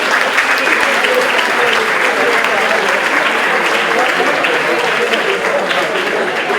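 A graduation ceremony audience for a 2023 fourth-year ESO class claps loudly and steadily. The dense applause holds an even level from start to finish without dying away.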